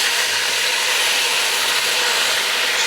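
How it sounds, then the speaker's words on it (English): Red wine hitting a hot pan of roasting beef with French mustard, a steady broadband hiss and sizzle held at close range, unbroken and fairly loud throughout. "I have to deglaze the pan a bit with some beautiful red wine"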